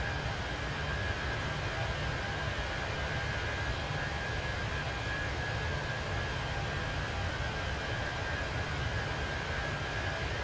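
A British Airways A319 airliner's engines in a flight simulator game, heard as a loud, steady broadband roar with a faint whine, unbroken and even for the whole stretch.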